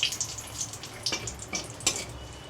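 About four dried red chillies frying in plenty of hot oil, crackling and hissing softly with a few sharper spatters as they are lightly stirred in a pan.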